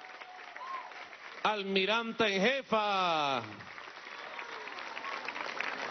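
A crowd applauds at a Women's Day march rally in Caracas, a steady wash of clapping that runs under a loud amplified voice speaking in the middle of the clip and carries on after it stops.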